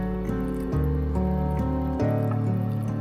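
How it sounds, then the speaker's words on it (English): Water fills a lake pump as it is primed, making gurgling, hollow tonal sounds whose pitch shifts in a few steps as air bubbles out, close and fairly loud. "It's so small it can't bleed the air out as the water goes in."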